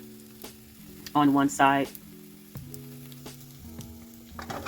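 Egg whites fry in a pan with a soft, low sizzle running under a faint background hum, while a person speaks briefly partway through and again at the end.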